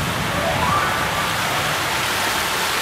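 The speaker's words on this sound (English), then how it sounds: "We just found a really cool waterfall that's over here and we're gonna go check it out." A waterfall outdoors gives a steady, dense broadband rush of falling water, constant in level from start to finish, with no voices over it.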